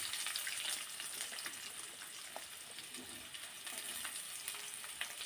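Onion and mustard seeds fry in hot oil for a bitter gourd gojju, a steady close crackling sizzle with faint stirring scrapes and no talk.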